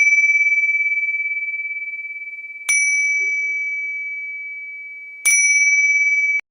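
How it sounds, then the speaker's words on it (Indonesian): Three clear metallic bell strikes, each ringing out with a long, slowly fading tone, spaced a few seconds apart. "lonceng atau bel saat dipukul"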